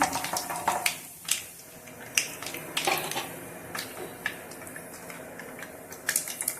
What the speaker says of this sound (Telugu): కొద్దిగా జీలకర్ర అయితే వేసుకోవాలి. ఇవి కొద్దిగా ఫ్రై అయితే అయినిద్దాం.